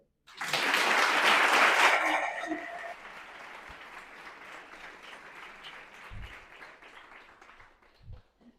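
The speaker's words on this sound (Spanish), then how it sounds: "pues un aplauso" An audience at a talk bursts into loud applause that lasts about two seconds and then thins to scattered, quieter clapping, with a couple of low thumps near the end.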